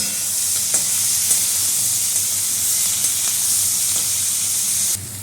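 Chopped potato, onion and tomato fry in a pan with a steady, bright sizzle, broken by occasional scraping stirs, close and continuous with no talk.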